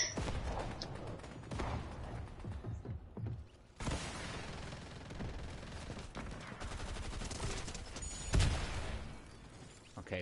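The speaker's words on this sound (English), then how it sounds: "Oh my God, this charge SMG sucks." Charge SMG fire in Fortnite comes as bursts of rapid, crackling shots in dense clusters, broken by a short lull before more sustained firing resumes.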